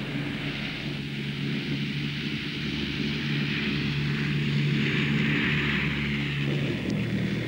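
A Bristol Britannia propeller airliner flying near Filton gives a steady, loud drone of turboprop engines with a sustained low tone and broad roar that does not let up.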